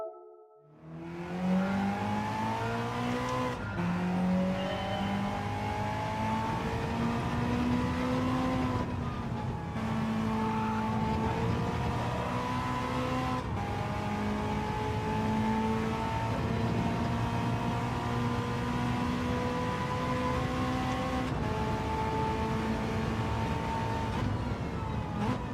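A race car engine in a racing video game time trial revs steadily and climbs through gears, with distinct shifts marked by pitch drops, loud and continuous without speech.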